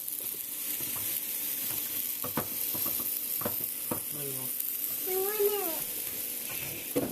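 Garlic mushrooms sizzle in melting butter, a steady close-up fizz and crackle with scattered pops and light stirring clinks, and a voice murmurs briefly partway through.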